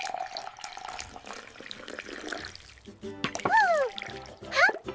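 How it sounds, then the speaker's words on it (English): Juice pours from a container in a playful kitchen scene, a steady watery stream running for about three seconds before a cartoonish voice lets out rising, sing-song exclamations. "Pour the juice."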